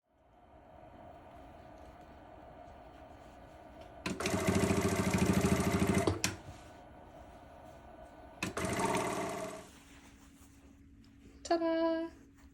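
A sewing machine stitches a folded, tucked-under shirt neckline edge in two short bursts of whirring, the first longer, set against a quiet room hum, followed by a brief tonal squeak near the end.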